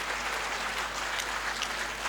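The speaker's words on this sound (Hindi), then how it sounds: "एक बार जोर से ताली बजा के बताओ तो इतना उत्साह है।" A crowd at a religious festival gathering claps loudly and continuously, a dense wash of applause filling the whole moment without pause.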